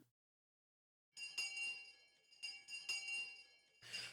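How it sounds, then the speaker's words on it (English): A distant school bell rings in a visual novel game, bright metallic tones sounding in two or three clustered bursts after a moment of silence, faint and ringing out with sustained overtones. "Just then we heard the bell far away,"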